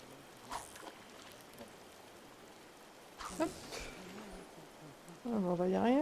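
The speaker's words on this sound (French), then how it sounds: "Il pleut." Rain falls steadily in the Disney Dreamlight Valley video game as a soft, continuous patter, with voices and scattered game sounds breaking in over it toward the end.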